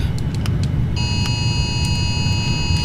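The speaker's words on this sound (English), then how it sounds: "that's a flood warning" A phone flood warning alert sounding as steady electronic tones over a loud cabin hum during a home flight-simulator session, with tonal bands holding for about two seconds.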